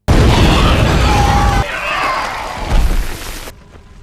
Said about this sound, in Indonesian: Kesal dengan si kadal, Mason lempar sebuah korek ke area bergas buat sebabkan ledakan.